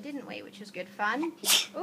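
A single quick sneeze bursts out near the end, sharp and close, amid a conversation in a hotel setting, with people talking just before and after it.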